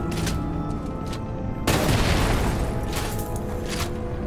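A single heavy gunshot blast from a video game booms out loud and close about midway through, over a steady bed of game background noise.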